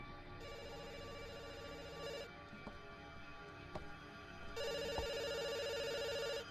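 A cell phone rings in bursts of a loud, warbling electronic tone, separated by a pause with faint clicks and background noise. No one speaks.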